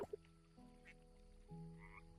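A creature in the Coral Island farming video game gives a short croaking, quack-like call, followed by a second quick blip over soft, steady in-game background music.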